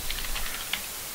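Light, quick clicks of a computer keyboard being typed on, faint under steady background hiss.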